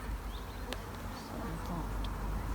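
Honey bees buzzing around a hive entrance in hot weather, a steady dense hum close to the microphone with a few individual bees flitting past.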